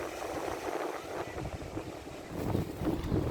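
Onshore wind gusts across the microphone at Sunset Cliffs Natural Park on the coast, a steady low rumbling buffet that swells louder toward the end, with faint surf beneath.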